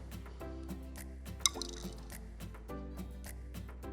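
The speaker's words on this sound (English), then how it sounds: "That made a pretty big ripple and a splash." A metal nut is dropped into water and makes a short, bright splash, with a few faint drips after it, over a steady low background hum.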